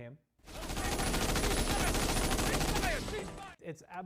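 Loud, sustained burst of machine gun fire from a movie tank battle fills most of the clip, dense rapid shots with a cinematic boom, then brief voices after it cuts off.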